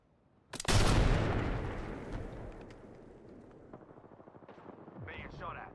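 Gunfire in a first-person shooter game erupts as one sudden loud blast followed by a rattling, decaying barrage, with faint scattered sounds trailing off near the end.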